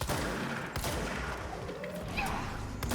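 Gunfire in the video game Control, a burst of rapid overlapping shots with sharp crackling reports running through the short moment, fairly loud and close.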